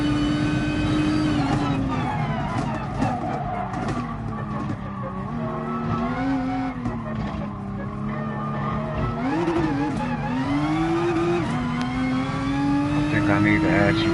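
A Nissan GT-R NISMO GR3 race car in Gran Turismo Sport revs hard off the line, its engine whining steadily with pitch rising and dipping through quick shifts and tire squeal, loud and continuous.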